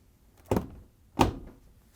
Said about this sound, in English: we can close the washer door